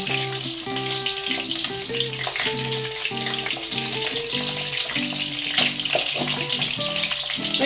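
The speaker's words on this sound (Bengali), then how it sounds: "ডিমগুলো ভাজা হোক" Eggs sizzle and crackle steadily in a hot pan, over a background of repeating tonal notes.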